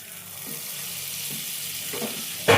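Butter sizzling in a hot pan before paneer goes in for a homemade pizza, a steady soft frying hiss held throughout, ending in a sharper burst of crackle at the very end.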